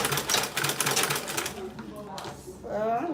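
A sewing machine stitching a bag handle, running as a fast, even mechanical rattle for a second or so up close before it stops and a voice talks.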